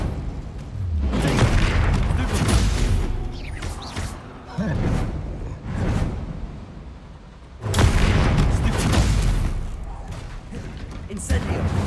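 Explosive spells in the video game Hogwarts Legacy go off as heavy booming blasts, several loud rumbling bursts in a row, with a voice calling out over them.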